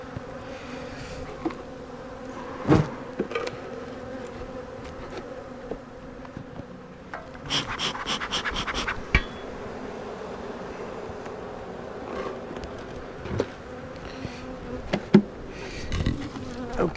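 Honey bees swarm around two open backyard beehives during an inspection, a steady close buzzing drone that runs throughout with several sharper passes as bees fly near.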